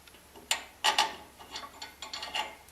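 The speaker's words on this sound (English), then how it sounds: "So now we want to put the bolts back in." Bolts are put back in on a Ford E-350 van during ball joint, tie rod end and wheel bearing work, giving a few sharp metallic clicks and rattles in irregular bursts, close and moderately loud, with no talking.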